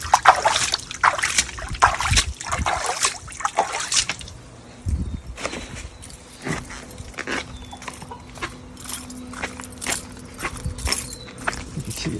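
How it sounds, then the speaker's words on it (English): Water poured into a fitting hole on a 2014 Jacuzzi J-400 hot tub, trickling and dripping out of a leak in irregular, close splashes, with occasional louder knocks. "I'm gonna put water in that hole there."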